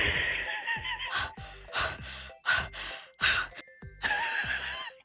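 A voice imitates an animal panting in a rapid series of loud, breathy huffs and gasps, each burst separated by short pauses, close to the microphone with no other sound.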